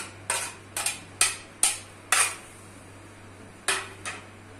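Finely chopped cabbage, capsicum and other vegetables being mixed in a bowl for instant vegetable idli, heard as a handful of sharp spoon-against-bowl clinks and scrapes in quick clusters, close and fairly quiet with no talk.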